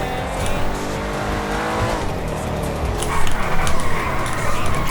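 A 2.6-ton Cadillac Escalade drifts in GTA V, its tires squealing loudly over a roaring engine in a continuous, close skid that swells toward the end.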